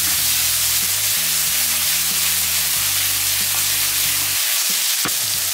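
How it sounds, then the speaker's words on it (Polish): Zucchini frying in a hot pan while being stirred for a pasta dish with sun-dried tomatoes, a loud continuous sizzle with soft scraping of the stirring, no talking. "Można cukinię trochę przemieszać."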